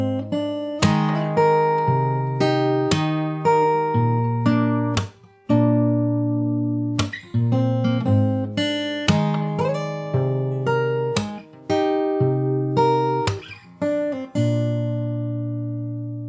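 Fingerstyle acoustic guitar plays a song verse, a steady run of plucked bass and melody notes with brief pauses between phrases, close, clean and without talk.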